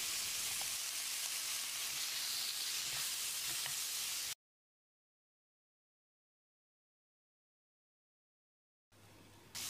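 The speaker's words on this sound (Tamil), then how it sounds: "இப்போ நம்ம நறுக்கி வச்சுருந்த தக்காளியை சேர்த்து 1 நிமிஷம் வதக்கிடலாம்." Chopped tomatoes sauté in a hot pan for a chapathi side dish, giving a steady, close sizzle for about four seconds before dropping to silence, with faint noise returning at the end.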